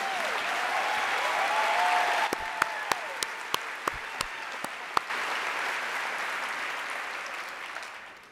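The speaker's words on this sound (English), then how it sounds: "Round of applause for Ms." Audience applause fills a hall at the 2019 AVID San Antonio Summer Institute, a dense, sustained wash of clapping with a few sharp, louder claps standing out midway before it tapers off.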